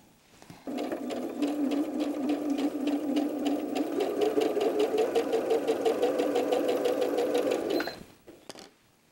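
A sewing machine stitches quilt block pieces together: a fast, even mechanical whir with rapid needle clatter starts abruptly, runs steadily for about seven seconds close by, then stops, with no talk.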